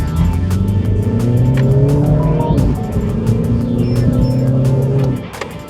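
A Mini Cooper engine drones loudly while driving near Sepang, its pitch rising through gears with sharp crackling pops from the exhaust scattered throughout.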